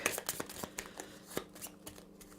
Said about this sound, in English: she takes her discards, shuffles them up to make her new deck